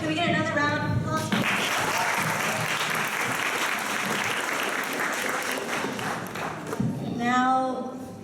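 Dense crowd applause at a poetry slam swells right after a voice and runs steadily for several seconds, then fades as a person starts talking again.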